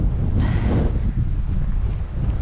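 Strong wind on the Heysen Trail near Huppatz Hut buffets the microphone in a steady, heavy low roar with gusty surges throughout, loud and close, with no voices.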